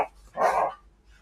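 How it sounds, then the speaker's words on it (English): Dogs playing together give a short, loud bark with a rough growly edge, close by, then fall quiet. "these dogs are going at it"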